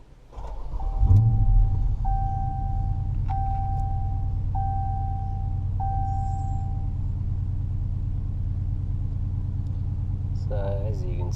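V8 engine of a 2016 Chrysler 300 SRT with resonator delete idling in a steady, deep rumble, with a brief rev at the start and a tonal beep chime repeating several times over it.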